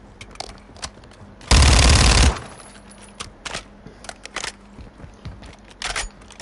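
A shotgun fires once in a video game, a single loud, broad blast that lasts just under a second, with quiet game ambience before and after it.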